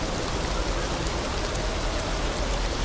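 Rain falls in the video game Detroit, a steady, dense, even hiss that stays at a constant level throughout, with no voices over it.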